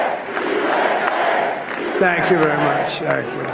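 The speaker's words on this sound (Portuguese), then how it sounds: "O público grita USA, USA," A large crowd chanting "USA" in unison at a Trump victory speech, steady roar of many voices with rhythmic chant syllables rising near the end, loud and close throughout.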